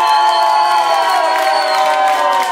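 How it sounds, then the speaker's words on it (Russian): Loud, continuous cheering and whooping from a club audience at a break dance competition, a dense crowd roar holding steady throughout with no talk over it. "Шустрые аплодисменты."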